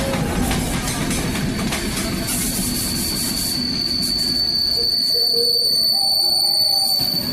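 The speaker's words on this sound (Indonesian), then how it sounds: "Nah, akhirnya ada kereta juga." A passenger train pulls into a station, a loud, steady rolling rumble with a high, sustained wheel squeal that rises and holds near the end, and no talking.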